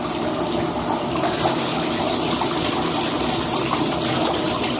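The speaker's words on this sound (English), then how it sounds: "And rinse it some more." Tap water gushes steadily while rinsing a lacquered trombone bell section, a loud, constant splashing flow with no pauses.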